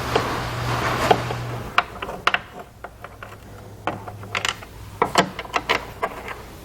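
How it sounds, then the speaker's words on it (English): Phillips head screwdriver backing out tail lamp screws on a 2011 Kia Sportage, a series of small clicks and ratcheting ticks against a faint steady hum, close and fairly quiet, no talk. "We're going to grab a Phillips head screwdriver and remove this screw and this screw."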